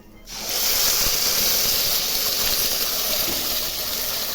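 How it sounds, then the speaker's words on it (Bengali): Ground spice mixture hits hot oil already tempered with cumin seeds, setting off a loud, steady hiss of sizzling that starts abruptly and holds strong and close throughout. "এখন আমি এই মশলাটা, মিক্সচার মশলাটার মধ্যে ঢেলে দেবো।"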